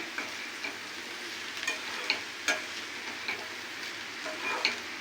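Curry frying in a pan is stirred, soft intermittent spoon taps and scrapes over a steady, moderate sizzle, close by.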